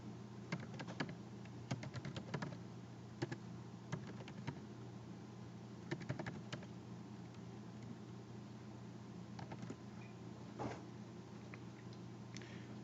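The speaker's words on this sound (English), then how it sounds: "let's type in the user's name and password" Clusters of keystrokes on a computer keyboard as a username and password are typed, quick bursts separated by pauses over a steady hum, quiet and without speech.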